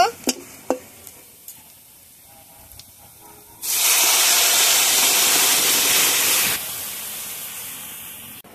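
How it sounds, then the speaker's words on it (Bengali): Pumpkin lentil dal poured into a hot pan of fried onion and garlic: after a few faint clinks, a sudden loud hiss and sizzle bursts up and holds for about three seconds, then drops to a softer steady bubbling sizzle. "এখন কুমড়োর ডালটা ঢেলে দেব।"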